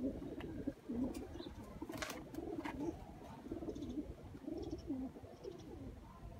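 Sialkoti pigeons cooing in a cage, repeated soft throaty coos in a steady rhythm close by, with faint chirps and rustling in the background.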